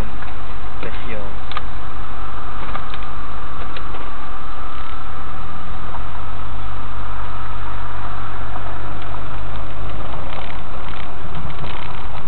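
A car engine hums at a low, steady idle-like drone during a slow drive back down a hill in hot weather, continuous and fairly loud, with faint clicks and shifts in tone along the way.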